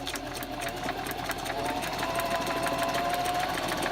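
A sewing machine stitches continuously at close range, a rapid rhythmic whirring hum with a faint mechanical ticking throughout, no speech.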